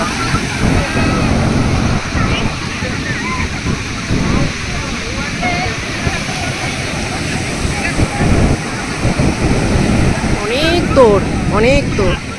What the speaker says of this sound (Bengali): ঢেউটা আর ঝাপটানিটা অনেক বেশি